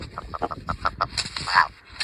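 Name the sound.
rock ptarmigan call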